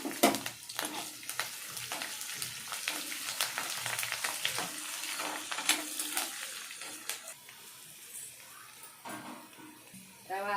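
Mustard seeds, cumin, urad dal, onion, garlic, green and dried chillies and curry leaves frying in hot oil, a crackling sizzle with sharp pops, close and steady, fading slightly toward the end, with no talking.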